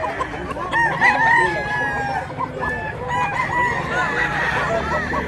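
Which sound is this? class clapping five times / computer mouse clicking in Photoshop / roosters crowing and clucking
roosters crowing and clucking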